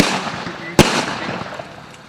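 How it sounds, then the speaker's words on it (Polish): A single sharp rifle shot from a Mauser at a First World War battle reenactment, one loud crack standing out over a steady background of outdoor noise. "Żołnierze niemieccy wyposażeni są w karabiny Mauser wzórku"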